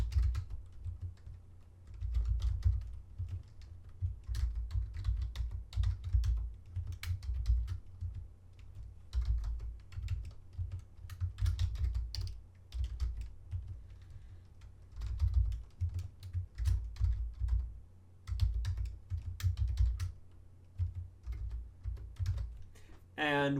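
Computer keyboard typing to fill in name and address form fields: quick, close clicking keystrokes in irregular bursts that carry on steadily for over twenty seconds.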